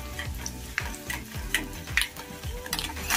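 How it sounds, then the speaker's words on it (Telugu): Urad dal and chana dal sizzle in hot oil in a pan for lemon rice, a close, lively crackle broken by rhythmic scraping taps of stirring. "ఇవి కొద్దిగా ఫ్రై అయిన తర్వాత దోరగా వేయించుకోవాలి"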